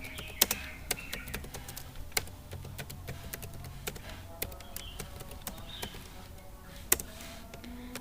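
Fingers type on a computer keyboard, a run of quick, uneven clicks and sharper keystrokes close by over a quiet hum, with no voices.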